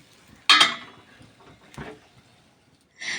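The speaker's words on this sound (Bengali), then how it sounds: "খাওয়া দাওয়া করে বাসন ছিল অনেক বাসন, সেগুলো ধুয়ে নিয়েছি" Dishes, pots and cutlery clink and clatter while a large stack of dishes is washed after a home meal, with a sharp burst of clanking early on, a scrape midway and another rattle at the end.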